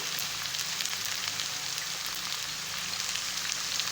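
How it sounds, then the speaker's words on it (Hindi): Bone stock (yakhni) poured into a frying salan of bones and marrow, giving a steady, close hiss and sizzle with a faint crackle throughout. "वो यखनी भी मैं इसमें ऐड कर रही हूँ।"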